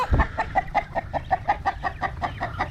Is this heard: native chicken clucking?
yes